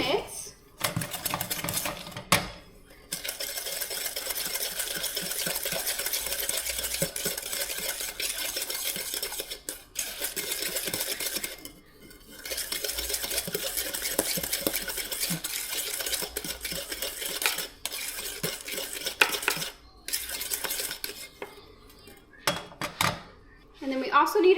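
Spoon stirring a cup of sugar into a hot dessert-bar mixture just taken off the heat, giving steady scraping and clinking against the pot for most of the stretch, with a few brief pauses.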